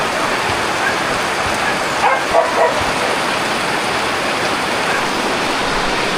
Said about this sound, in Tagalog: Ito pa nagpapasaklap, ang lakas ng ulan.